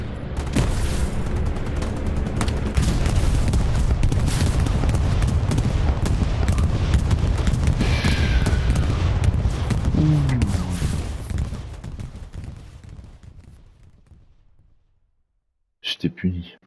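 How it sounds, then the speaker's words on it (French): Grenade blast and heavy gunfire in the World War II shooter game Hell Let Loose, a dense, sustained roar of booms and shots that fades away, then a short burst returns at the end. "c'est ma grenade de tout à l'heure, ça"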